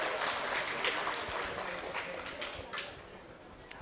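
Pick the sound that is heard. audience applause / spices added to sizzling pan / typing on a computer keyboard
audience applause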